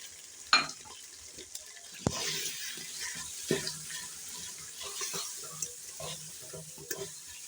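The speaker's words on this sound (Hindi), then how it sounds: "अब हम ये खुश्क मसाले और हरी मिर्च भून लेंगे।" Dry spices and green chillies fry with chicken in a pan, a soft sizzle with stirring scrapes and a few sharp clinks, fairly quiet and close throughout.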